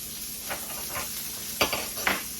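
Seasoned Philly steak cooking in a pan, a steady close sizzle broken by a few louder scraping stirs near the end.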